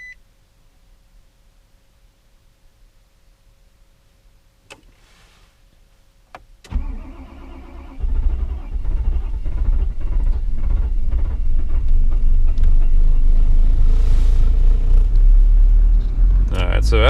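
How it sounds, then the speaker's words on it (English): A Nissan Titan XD with the Cummins 5.0 diesel cranks in the cold after near silence and a beep, catching into a loud, steady rumbling idle heard from inside the cab. "it just has a terrible time starting in the cold"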